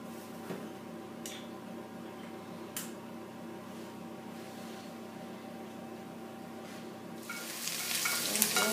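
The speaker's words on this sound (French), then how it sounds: "Mon huile de coco, un peu d'huile d'olive. Je mélange pour faire ma sauce d'oignon." Onion sauce fries in coconut oil mixed with olive oil. A soft, continuous sizzle carries a few sharp ticks and clinks of the spoon, then rises to a louder frying hiss near the end. No voice is heard.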